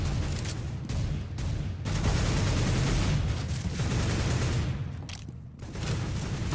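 Counter-Strike: Global Offensive gameplay with a grenade throw and gunfire: a loud, dense barrage of shots and blasts that roars almost continuously and breaks off briefly a few times.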